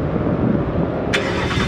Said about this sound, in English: So here is the 2018 with the H pipe and the Steeda exhaust